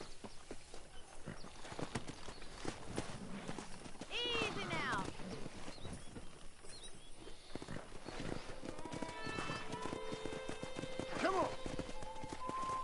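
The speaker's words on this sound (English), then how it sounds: "Let's see if we can't wrangle some horses." Horses neigh and whinny with steady clip-clop hooves while riding and wrangling in a Red Dead Redemption style western video game, with a voice speaking softly to the animals over the hoofbeats.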